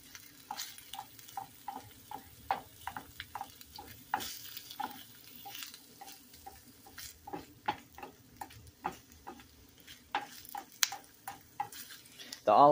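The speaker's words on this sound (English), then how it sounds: "It's already sizzling pan." Sliced red onion and bell pepper sizzle in olive oil in a frying pan while being stirred, with rhythmic spatula scrapes and taps over a soft crackle, close and fairly quiet.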